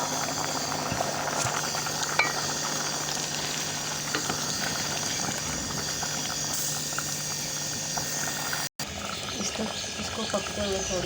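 Mash, moong and chana dal boil in a pot with a steady, dense bubbling and popping that runs throughout and is briefly cut off near the end.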